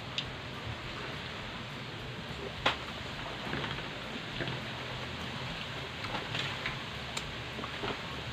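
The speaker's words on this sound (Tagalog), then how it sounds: "medyo umaangin na dito, tsaka umaambon na" Light drizzle falls steadily outdoors in rainy-season weather with a little wind, a soft continuous hiss with a few faint drop ticks, no voices.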